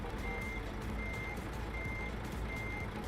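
Steady reversing beeps from a bus in Euro Truck Simulator 2 on a Turkey map, four evenly spaced tones over a constant engine rumble.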